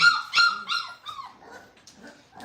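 A Boerboel puppy barks and whimpers up close, giving a few sharp yips at the start and then softer whining cries that fade away.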